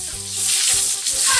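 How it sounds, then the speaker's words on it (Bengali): Pieces of pointed gourd (potol) fry in hot oil, giving a loud, close, continuous sizzle with faint stirring scrapes and no voices. "পটলটা হালকা ভাজা হয়ে এসছে"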